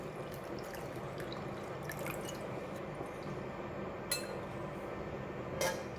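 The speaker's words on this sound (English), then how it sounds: "Let's pour in the water. We're going to wash the cendol first." Water drips and splashes softly in a container as cendol is rinsed, with a few sharp clinks of a utensil or dish against it.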